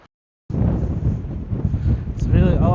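Strong wind gusting into the microphone on the coast near a lighthouse, a loud, rumbling buffeting roar that starts abruptly after a brief silence, with a voice briefly heard under it.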